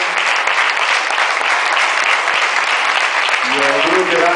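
An audience applauds steadily at a Valencian festival stage event, dense clapping close and loud throughout, with a voice starting to speak near the end.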